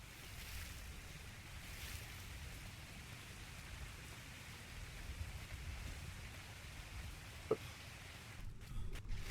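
Rainstorm at sea in the video game ATLAS, a steady wash of rain and ocean surf around an anchored ship, fairly faint and continuous, with a brief knock near the end.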